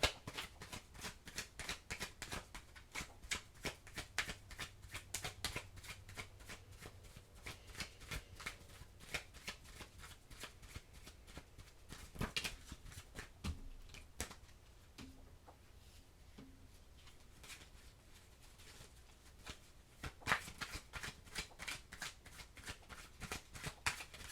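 Oracle cards being shuffled by hand in a steady run of crisp, papery riffles and snaps, fairly close and continuous, with a few brief pauses and a faint low hum beneath.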